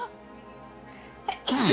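A person sneezes once, a sudden loud burst after a quiet room-tone stretch with a brief sharp intake just before it.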